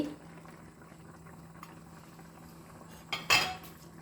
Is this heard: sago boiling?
yes